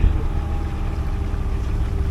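A motorboat engine drones steadily nearby on the water off Karaburun, a low continuous rumble with no talk heard.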